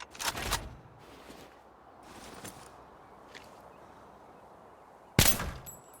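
An SKS rifle in the game Arena Breakout fires two sharp, loud shots, one early and one near the end, with fainter cracks and shuffling noise between them.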